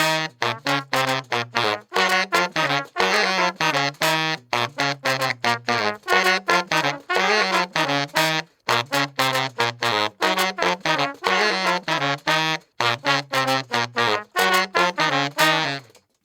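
Overdubbed horn section of trumpet, trombone and baritone sax recorded in isolation, playing loud, punchy staccato phrases with short stabs and sustained chords, no drums or bass behind them.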